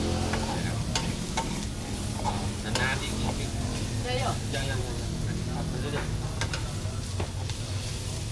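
Pork and holy basil stir-fried in a pan at a local food stall in Hsipaw, Myanmar: steady close sizzling with repeated scraping and clanking of the spatula, while people talk in the background.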